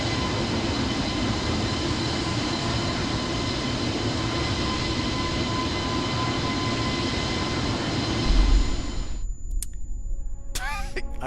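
A Lockheed F-22 jet in Microsoft Flight Simulator 2020 roars steadily with a loud, broad engine rush through takeoff, then cuts off abruptly near the end, leaving faint talk and a few brief sounds.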